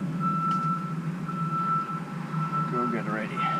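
A truck reversing with a trailer toward a 60-ton Fontaine RGN, its steady reversing beeps repeating at an even pace over a low engine rumble, with a voice talking over it.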